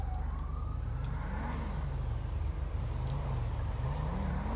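Wailing ambulance siren in a FiveM roleplay game, a continuous rising and falling tone sounding loud and steady throughout with no talk over it.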